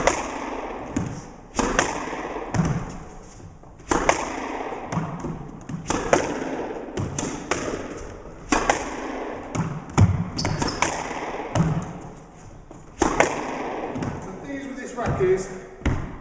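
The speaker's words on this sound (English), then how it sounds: "So let's hit a few shots." Squash ball struck with a Prince EXO3 145 racket, sharp repeated hits and wall thuds every couple of seconds in an echoing court, with a voice talking.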